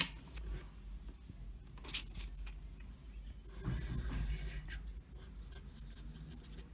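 Marker or chalk scraping and squeaking across a board while a rough sketch is drawn, continuous close strokes with short breaks and varied scratchy rubbing.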